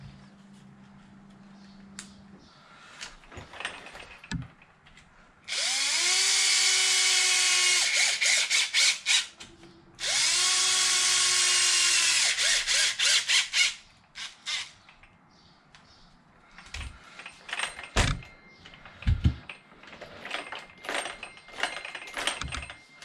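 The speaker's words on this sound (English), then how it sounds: "A couple more screws on the bottom." A power driver fastens screws into the chassis of a Losi DBXL 32cc RC car, giving two long high whirring runs of several seconds each, close up, amid clicks and small handling knocks.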